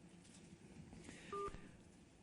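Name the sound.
phone call dialing tones on a Galaxy Nexus phone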